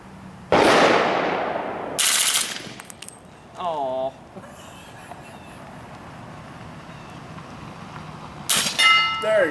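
A SIG Sauer firearm fires at a training academy, loud, close shots in separate bursts with quieter gaps and some mechanical clinks between them.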